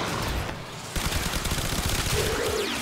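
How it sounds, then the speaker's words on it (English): Zhuge Prime gun in Warframe firing bursts of delayed-detonation bullets, rapid repeated shots with small explosive pops following, loud and close, a brief pause then another sustained volley. "Shoot a bullet, there's a small delay before it detonates and deals some damage."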